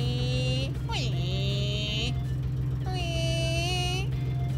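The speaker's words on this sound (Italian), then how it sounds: "E poi ci mettiamo alla guida del camion." Truck driven in a children's educational outing, with a steady low engine hum throughout and bright squealing, gliding tones layered on top, continuous and moderately loud.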